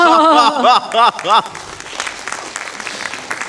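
A brief burst of audience applause at a manga and anime quiz on stage at TGS Springbreak 2024 follows a few seconds of animated speech, the clapping continuing at moderate volume as the talking stops.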